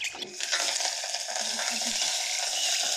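Peanuts with dried and green chillies frying in hot oil for a tempering, a loud continuous crackling sizzle with stirring scrapes throughout, close up and without talk.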